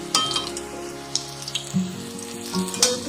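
Flower paste fritters fry in a wok in oil that is not very hot, giving a soft close sizzle broken by light scraping clinks, with a faint hum in the background.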